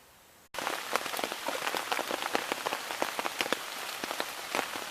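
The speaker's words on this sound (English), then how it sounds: "Well, the rain finally came." Rain falls at a campsite in a dense, even patter of close drops on surfaces, beginning abruptly after a brief silence and continuing steadily.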